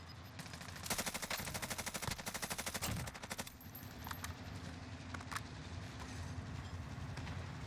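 Rapid automatic gunfire from the video game Warzone rings out in a loud, steady burst for about two seconds, followed by scattered lighter shots and a rumbling, train-like background.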